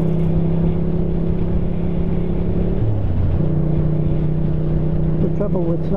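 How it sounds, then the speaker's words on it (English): Car engine noise passes on a road near a reservoir on a summer day, a steady low drone with one vehicle sweeping by midway, under a faint voice. "Too many cars about today though."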